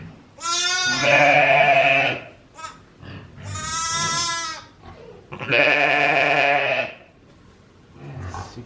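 Loud, close bleating from Katahdin sheep on a homestead, three long wavering calls in a row with short pauses and a brief fourth cry at the end.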